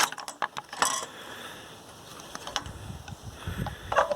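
A ratchet works the nuts off the studs holding the carburetor on a Predator 212 engine from a rototiller: quick bursts of close metallic clicking, then a pause, then more short clicking runs.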